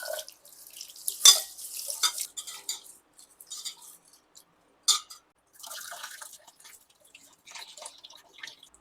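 Rice being washed by hand in water in a home kitchen, with soft irregular sloshing, dripping and light clinks of a vessel, a few louder splashes standing out among quieter swishing.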